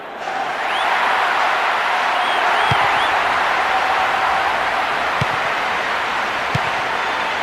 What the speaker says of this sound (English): Even some of the opposing fans are clapping that.